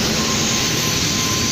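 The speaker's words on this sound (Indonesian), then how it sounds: "pesawat yang nanti aku naikin" Garuda Indonesia passenger jet airliner at the airport, a steady, loud roar of jet engines with a broad hissing whine, continuous and close, with no voices over it.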